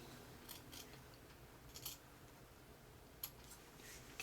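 Scissors snip through quilting fabric and lining for a fully zipped, lined quilted tote, a few crisp cuts spread across a quiet indoor setting with no speech.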